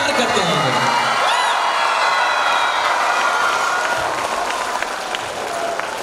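An audience at a school annual function claps together in sustained applause, loud and dense at first and tapering slightly toward the end, with a few whoops mixed in.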